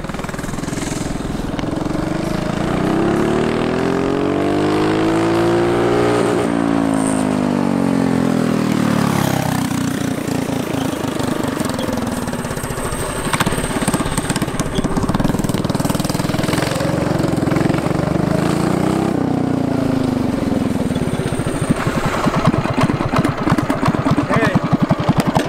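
A small turbocharged drift go-kart engine revs and winds up to a high, strained whine at top speed, pitch rising and falling steadily, loud and close with voices talking over it.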